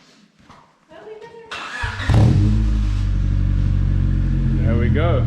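A Honda Del Sol fitted with a Supra exhaust pipe cranks and fires up, then settles into a loud, deep, steady idle. Someone speaks over the first moments, and a faint whistle is audible near the end.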